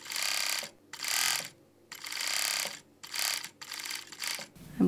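A sewing machine stitches a t-shirt shoulder seam with a zigzag stitch, clattering mechanically in four or five short, close, evenly spaced bursts with brief pauses between them.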